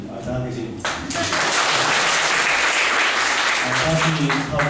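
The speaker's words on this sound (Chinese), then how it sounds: "大家鼓掌一下" Audience applause at a lecture event, steady clapping from a crowd that swells quickly and holds loud for several seconds, with a speaker's voice briefly audible before it begins.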